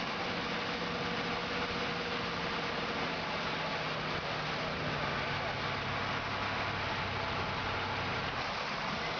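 Diesel engine of a 1970 Kenworth 953 truck pulling a rig off-road with differential locks engaged, a steady low rumbling drone that holds for the whole stretch, with a heavy, continuous wash of noise over it.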